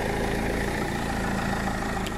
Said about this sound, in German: den Motor lasse ich gerade ein bisschen laufen, bezüglich Aufladen der Batterie